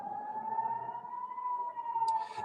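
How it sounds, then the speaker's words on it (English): An air raid siren wails across Tel Aviv, Israel, holding a steady, slightly wavering tone that carries from a distance, with a brief clatter near the end. "Kaylee, right now we have air raid sirens that are sounding across Israel's second largest city of Tel Aviv"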